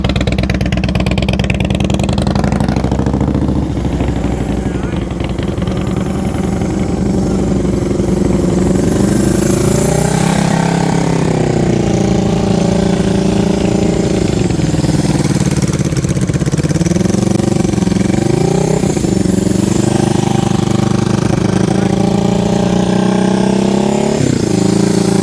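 Motorcycle engine during advanced slow-speed riding practice, idling and rising and falling with repeated throttle blips, loud and close, with no talk over it.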